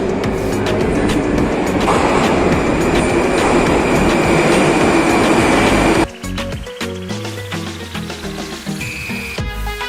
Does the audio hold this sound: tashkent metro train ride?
yes